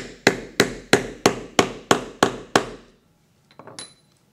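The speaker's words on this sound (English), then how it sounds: "I take the stud, put it over the eyelet, take the tool, and do the same thing" Seven sharp, evenly spaced hammer strikes drive a setter tool onto a Line 24 snap fastener on leather over a marble surface, each hit ringing briefly before decaying, followed by a few faint small clicks.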